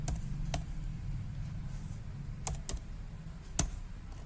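Sparse, scattered keystrokes on a computer keyboard while a captcha is entered on an online school admission form, a handful of sharp clicks spaced apart over low room hum.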